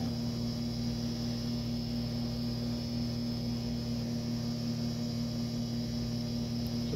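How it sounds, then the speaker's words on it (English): A small pump inside the bucket of a Parr calorimeter's water handler runs as it fills the bucket with water, giving a steady, continuous low mechanical hum with a faint hiss. No talking is heard. "and there's a little pump inside the bucket there."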